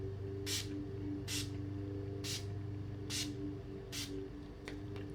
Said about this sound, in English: I like to put the Urban Decay D-Slick setting spray on top of that